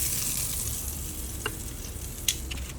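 Pork chops fry in a pan, a steady bright sizzle and crackle of hot fat with a couple of small taps and pops, no talking.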